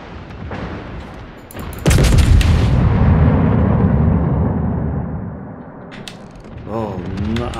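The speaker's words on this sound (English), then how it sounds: "Starting to turn the back gun around." A warship's rear gun turret turns in World of Warships, a loud, close mechanical grinding and ratcheting rumble that surges at about two seconds and holds steadily before easing, with a brief tonal wobble near the end.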